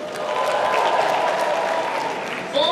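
Audience at an African music awards show applauds and cheers for a Zimbabwean nominee, a dense, sustained wash of clapping with a brief swell near the end.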